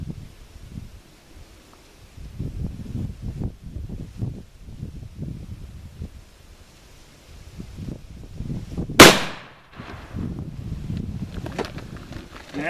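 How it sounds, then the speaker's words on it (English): A single sharp, loud deer rifle shot cracks out at a shooting range while the rifle is being zeroed, breaking through soft wind rumble and handling noise and then quickly fading. "Taking a breath, I'm going to let half of it out and slowly squeeze the trigger."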